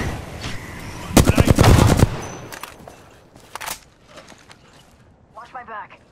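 Apex Legends gunfire sounds in a dense burst of rapid shots, then scattered single cracks, with a voice talking later.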